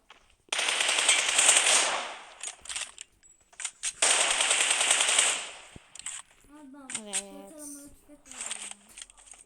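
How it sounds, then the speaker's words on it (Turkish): An M416 assault rifle in a shooting video game fires two long, loud automatic bursts, followed by a few scattered shots while a young voice talks over the quieter stretch afterward. "Taramalı tüfek mi M416 Ege?"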